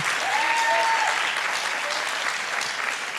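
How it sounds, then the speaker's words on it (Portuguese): A church congregation applauds during a sermon, producing a dense, steady wash of clapping with a faint tonal sound briefly heard early on. "Se é para o Senhor, pode aplaudir."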